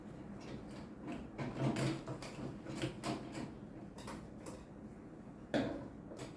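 A sewing machine stitches layered fabric for a twisted-design cap, giving a quiet, close mechanical clatter in short rhythmic runs with brief pauses and no talking.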